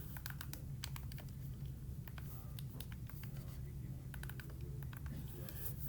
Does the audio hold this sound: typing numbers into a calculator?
yes